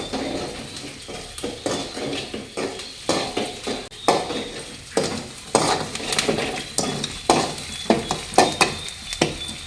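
Onions sautéing in a pan for a small shark fish curry: a steady sizzle under a regular rhythm of spoon scrapes and stirring strokes against the metal, close and moderately loud.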